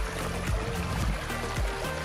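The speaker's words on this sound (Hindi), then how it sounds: "आप आवाज़ पानी की आवाज़," Water of a stream near the Bhamala Buddhist stupa near Taxila flows and trickles steadily at moderate distance, a soft continuous rush without talk.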